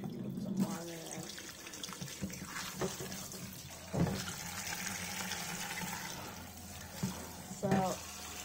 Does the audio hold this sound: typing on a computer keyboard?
no